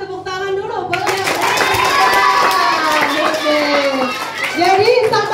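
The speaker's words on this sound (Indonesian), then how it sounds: "tepuk tangan dulu" Children clapping hands at a primary school session, quick ragged clapping mixed with loud children's voices and chatter throughout, close and lively.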